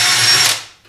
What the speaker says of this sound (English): I would just follow up my drill hole with a drill bit